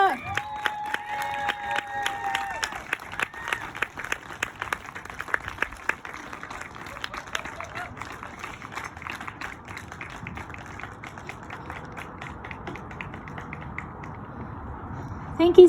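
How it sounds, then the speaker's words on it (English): An audience at a community thesis presentation breaks into sustained applause and cheering for the presenter. The clapping is dense and loud at first, then gradually thins out over about fifteen seconds, with brief voices mixed in. "Please give the biggest round of applause to Olivia!"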